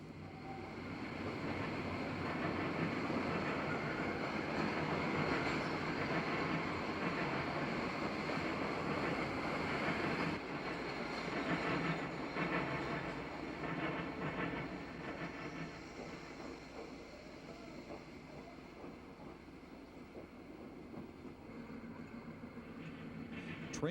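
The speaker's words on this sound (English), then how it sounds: "The conductor will pick up orders as the caboose crosses over the diamond." A westbound Wabash train crosses the diamond at Oakwood Junction, a steady loud rolling rumble of wheels on track that eases slightly after the midpoint, with faint rhythmic clicks and no talk.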